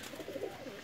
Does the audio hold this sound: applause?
no